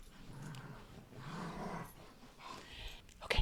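Dogs close by make low, restless growling and whimpering sounds across a few seconds, fairly quiet, with a sharper yip near the end.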